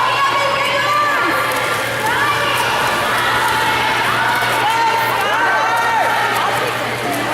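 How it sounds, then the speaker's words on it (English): Swim team supporters, the Hurricanes, cheer and shout loudly at an indoor pool during an 8-and-under 50 freestyle race, a dense, continuous crowd roar with children's whoops rising over it. "And all the Hurricanes started cheering for the 8 and under 25-50 freestyle."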